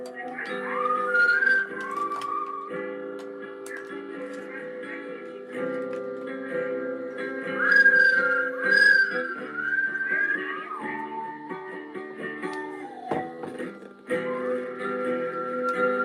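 A recorded song with a prominent whistled melody plays in the background at moderate level, with sustained musical tones beneath the tuneful whistling throughout.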